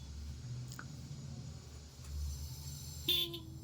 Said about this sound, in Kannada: ಹಾರನ್ ಮಾಡ್ತೀನಿ ಇವಾಗ, ಗೊತ್ತಾಗತ್ತೆ.